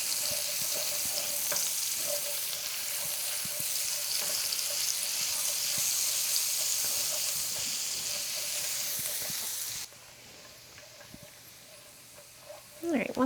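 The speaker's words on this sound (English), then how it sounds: "we're gonna cook that till it's translucent" Chopped onion frying in a pan for spaghetti carbonara, with a steady close sizzle and occasional stirring that drops in intensity partway through before a final clatter at the end.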